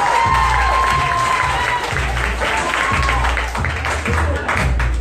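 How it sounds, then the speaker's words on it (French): Applause and some cheering from the audience at a 2018 SWPM conference pitch session as the first presenter takes the stage. The loud, full crowd clapping mixes with voices and a few low thumps. "Et on applaudit le premier."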